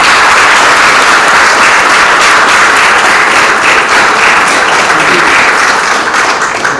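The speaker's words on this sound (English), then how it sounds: "I ask you to give a round of applause to our honoree, Maurice Ferre" An audience at an honor session gives loud, dense, sustained applause for honoree Maurice Ferre, an even wash of many hands clapping close by, unbroken from start to finish.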